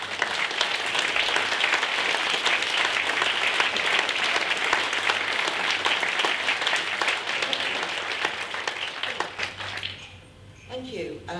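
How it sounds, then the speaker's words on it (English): A community gathering's audience gives a sustained round of applause, dense and loud for about nine seconds before it fades and a voice begins near the end. "can we just have a round of applause again?"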